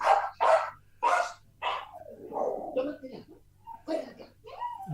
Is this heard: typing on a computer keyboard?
no